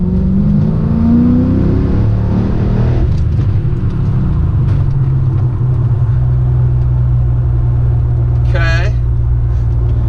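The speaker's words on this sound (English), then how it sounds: "let's check out this car at a more full throttle application and see what the Supercharger Whine sounds like" A Mercedes E55 AMG engine revs and pulls hard at full throttle, a rising supercharger whine sweeping upward over a deep rumble, then settling into a steady drone with a brief chirp near the end.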